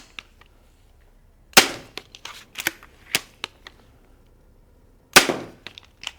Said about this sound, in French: on l'a entendu, j'ai loupé le petit cuir et ça a tapé le fond